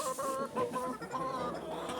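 Laying hens and roosters clucking in a chicken coop during an evening check, a soft, close chorus of overlapping clucks and low calls with no talking.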